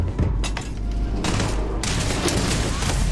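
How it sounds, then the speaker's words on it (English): Dense bursts of gunfire and booming blasts roll through a sci-fi firefight in the game Starfield, loud and continuous with rapid volleys and heavy thumps. "Lay down some cover fire."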